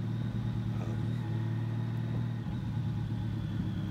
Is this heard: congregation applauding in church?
no